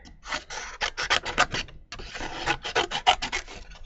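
A paper guillotine trims sheets of craft paper in repeated rasping, rubbing strokes, close and fairly quiet, in two bursts separated by a brief pause.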